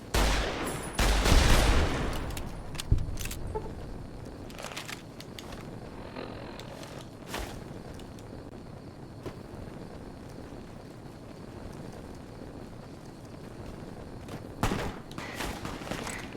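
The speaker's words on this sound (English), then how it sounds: "Who's shooting that?" Gunfire in Fallout New Vegas (Honest Hearts DLC): a burst of rapid shots early, then scattered distant pops over a windy, rumbling outdoor ambience.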